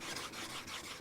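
A plane iron blade from a Chinese hand plane, rubbed back and forth across the full length of a sharpening stone, giving a steady close gritty rasp with soft strokes and no talking.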